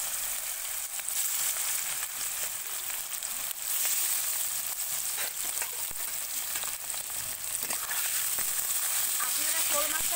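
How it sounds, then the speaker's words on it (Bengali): Pieces of snakehead fish fry in hot oil in a pan as a dry fry with onion leaves, giving a steady, dense sizzle with crackling that holds loud and close throughout. "আমি মাছটা ভেজে নিচ্ছি"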